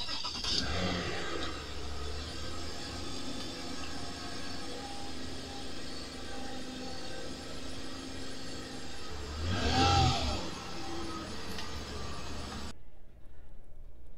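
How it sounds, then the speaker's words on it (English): A car engine cranks over and catches, then settles into a steady idle, with a second surge of revving partway through before the sound cuts off near the end. "if I start the engine up"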